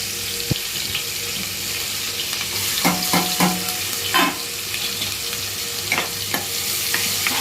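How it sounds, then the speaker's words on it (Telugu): Curry leaves and turmeric fry in hot oil for a broad bean chicken curry, with a loud, constant close-up hiss and crackle and repeated clicks and scrapes of stirring. "ఇదిగోండి ఆయిల్ వేసాను, కొంచెం పసుపు వేసాను, ఒక కరివేపాకు వేద్దాము."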